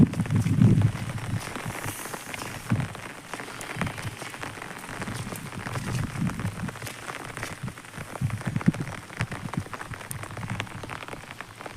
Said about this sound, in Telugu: ఇది ఎక్కడో చూసుకొని ఫుల్ వర్షాలు పడుతున్నాయి